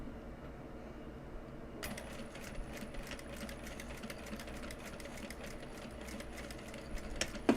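Sewing machine tacking down the lining of a fabric bag, a steady fast mechanical stitching hum that starts after a brief quiet moment and runs on evenly at moderate volume.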